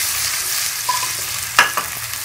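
Finely chopped onions frying in oil for a fish curry, a close, steady hiss of sizzling with a few sharper scrapes and clinks of a spoon stirring near the end, no speech.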